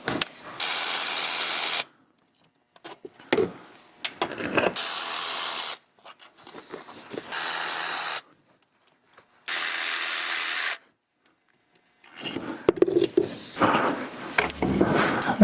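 A hand ratchet works on the bolts of a car throttle body, with bursts of rapid clicking that start and stop between pauses and shorter mechanical clatter near the end, close by with no talking.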